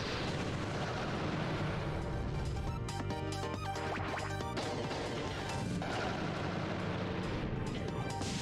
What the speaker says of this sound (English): Look at that slow bomb go.